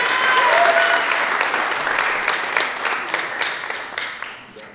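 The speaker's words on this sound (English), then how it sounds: "would you please give a round of applause and a warm welcome to Brockton's Poet Laureate" An audience at a poetry reading welcomes Brockton's Poet Laureate with loud, dense applause that starts strong, then slowly thins into scattered claps and fades.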